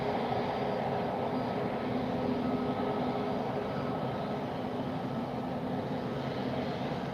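A plane approaching for takeoff at Lisbon Airport gives a steady, broad engine roar with a low rumble, holding constant for the whole stretch at moderate distance, with no voices.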